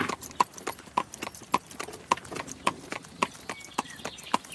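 A horse trots steadily, its hooves clip-clopping in an even, regular rhythm, fairly soft and alone.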